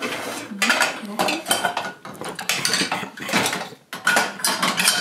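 Pots, pans and lids clatter and clink as they are loaded into a Midea MID45S900 dishwasher, with repeated close metallic knocks and scrapes in bursts over several seconds.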